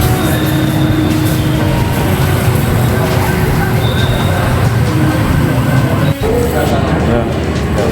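Busy train station ambience while waiting for a train in Malang: a steady, loud wash of crowd murmur, rumbling machinery and faint tonal hums, with one brief dropout near the end.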